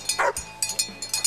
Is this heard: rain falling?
no